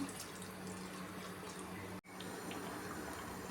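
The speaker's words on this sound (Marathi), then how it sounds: "थोडे पाणी मिक्स करते मी याच्यामध्ये" A steady, soft stream of water pours continuously into a crab curry, briefly cutting out for a moment before flowing on.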